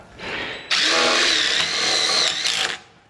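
A power drill driving tech screws into pulley covers while installing an attic lift, with a short whir and then a louder, close, steady whine for about two seconds before it stops.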